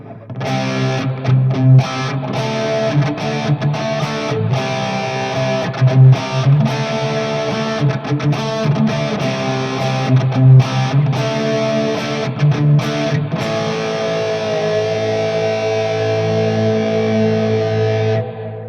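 Distorted electric guitar chords through a chorus effect pedal, shimmering, played steadily and loud for the whole stretch, no voices.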